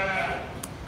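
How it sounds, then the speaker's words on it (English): A Boer meat goat bleats once, a drawn-out wavering call heard close, with a voice speaking over it. "This is actually a meat goat, not a milk goat."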